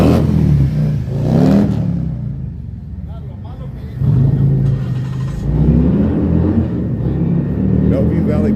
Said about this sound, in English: So let's watch this motorcycle come through here.